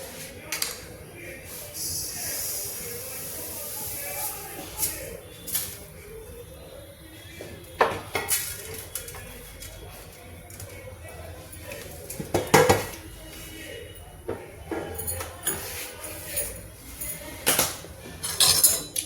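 Black sesame seeds roast in a pan over a high gas flame while a ladle stirs them, making scattered metallic clinks and scrapes, with soft talk in the background.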